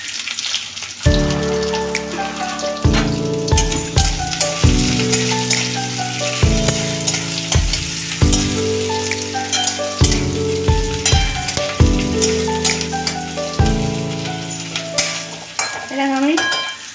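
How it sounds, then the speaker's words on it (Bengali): Chopped onion frying in a pan for mutton curry, added after a fried potato, gives a steady crackling sizzle throughout, with some clinking, under background music. "এটা আমি খুব বেশি লাল করে ভাজবো না, সামান্য লালটা হবে।"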